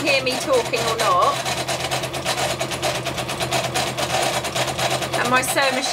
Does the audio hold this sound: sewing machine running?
yes